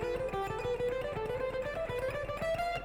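A fast guitar scalar run played by skipping alternate fretboard positions, a quick even stream of distinct picked notes climbing and shifting in pitch, close and clear with no talk.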